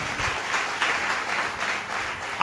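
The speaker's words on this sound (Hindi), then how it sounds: "ताली तो बजाओ जरा जोर से।" A church congregation claps during a sermon, a steady muffled wash of applause throughout that ends in a sudden louder burst.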